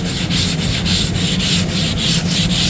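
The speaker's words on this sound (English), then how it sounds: "I'll just have to rub it. Keep rubbing it." Steady, loud hand-rubbing of a wooden tray being worked to a finish, a continuous sanding-like friction with a regular back-and-forth rhythm of strokes, close and alone without any talk.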